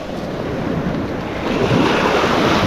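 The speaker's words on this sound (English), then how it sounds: "I need to be paying attention and not having my back to the waves" Surf washes steadily onto a beach on a stormy April day at Lido North, with strong wind buffeting the microphone; the roar is loud, dense and continuous, swelling slightly toward the end with no voices.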